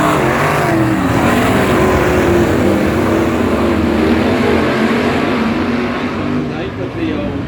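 Race cars at Huntly speedway start a heat: loud, close engines roar and rev together in a dense, continuous wash. A commentator talks over them throughout.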